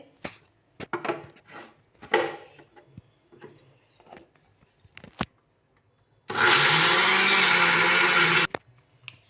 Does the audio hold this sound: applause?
no